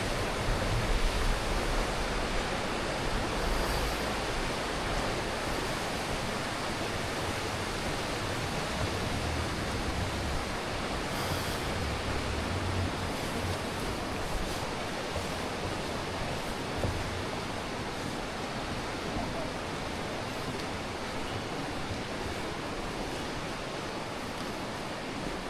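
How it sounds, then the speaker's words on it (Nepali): Bheri River rushing below a high bridge in Dunai, Nepal, a steady broadband roar of turbulent water that stays constant and full throughout with no voices. "भेरी नदी तल बगिरहेछ"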